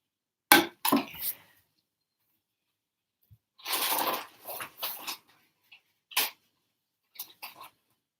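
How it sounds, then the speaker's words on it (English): Several short, forceful bursts of nose blowing, close by, separated by silences, with a longer burst in the middle. "a minute while I blow my nose."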